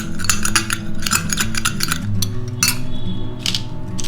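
A spoon stirs aloe vera gel serum in a small bowl, giving quick, rhythmic clinks and scrapes close up in short bursts, over a low, steady background hum.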